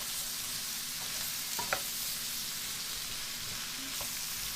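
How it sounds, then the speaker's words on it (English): Seasoning being stirred into vegetables in a frying pan for an organic vegetarian red lentil pasta, with a steady soft sizzle under a few light scraping strokes and one sharper clink of the utensil, no voices. "stir it, incorporate it very well into the vegetables"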